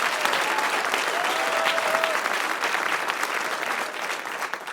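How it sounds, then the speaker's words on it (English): Applause from a podcast audience welcoming a guest, dense and steady clapping that holds strong for several seconds before tapering slightly near the end. "Everyone give her a round of applause."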